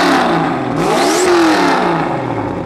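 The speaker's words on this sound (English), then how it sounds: "Turbo tubes then feed all the way back through the car above the passenger's head, which is going to make a lot of racket." Turbocharged custom show car engine with turbo tubes routed through the cabin above the passenger, revving up to a rising whine and then dropping back, loud and close, with no one speaking.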